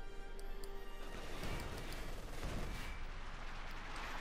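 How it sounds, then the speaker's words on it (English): Muffled, continuous gunfire and distant shelling from an assault gun bombarding in the wartime strategy game Company of Heroes 2, a dense steady battle din with scattered bursts, fairly constant in loudness throughout. "Got the assault gun there bombarding."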